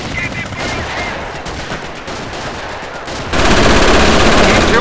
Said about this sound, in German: Gewehrbeschuss!